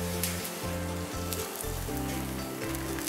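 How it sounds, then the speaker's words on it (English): Pancake batter sizzles steadily in a hot pan, a continuous close, even frying hiss with a faint low hum beneath and no talk. "a ladle full of batter, panhandle in one hand, ladle in the other, into the centre and then roll your batter around"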